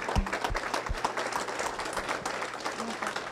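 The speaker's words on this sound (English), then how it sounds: "Can we give these individuals a round of applause" A church congregation applauds at a Sunday morning service, producing a short burst of mixed clapping with a crowd murmur underneath.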